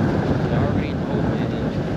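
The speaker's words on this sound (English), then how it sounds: "But it's fucking windy right now." Strong wind near the water buffets the microphone in a continuous low roar, steady and loud for the whole moment, outside the Marlboro Projects in Brooklyn.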